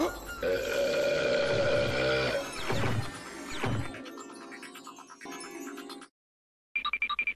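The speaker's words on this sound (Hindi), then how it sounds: "तब काम आएगी मेरी बदबूदार डकार" A cartoon character lets out a long, loud, smelly burp that rumbles for a few seconds, followed by crashing and clattering, a brief silence, then a quick ringing rattle.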